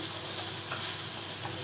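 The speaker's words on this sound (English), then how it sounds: "I'm going to go ahead and sweat off them onions." Onions sweating in a hot pan over lowered heat give a steady, close hiss of sizzling with a faint stir or two, alone without any talk.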